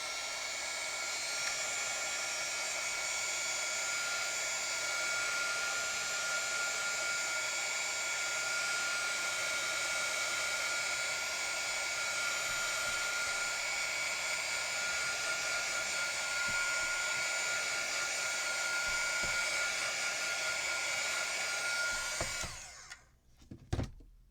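A heat tool blows hot air steadily over glue-warped paper during a craft project, a continuous close whirring roar that holds for about twenty-two seconds and then cuts off abruptly.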